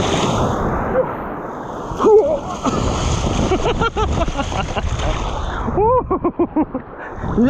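Small sea waves at the shore on an autumn day, splashing and washing in with steady wind noise on the microphone, while voices talk and call out over the water.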